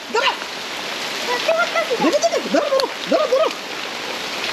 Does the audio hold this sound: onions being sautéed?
no